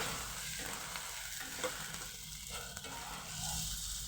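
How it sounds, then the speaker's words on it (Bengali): Ginger garlic paste frying with onions in butter gives a close, continuous sizzle broken by intermittent stirring, steady and moderate in level with no voices. "আদা রসুনের পেস্টটা দিয়ে দিলাম এবং পেঁয়াজের সাথে ভালোভাবে ভেজে নিচ্ছি"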